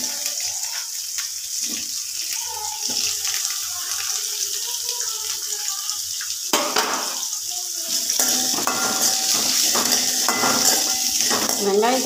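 Onions and tomatoes sautéing in a pan while making ladies finger tamarind gravy, a soft continuous sizzle with occasional utensil clinks and stirring scrapes, moderately close, with no voices.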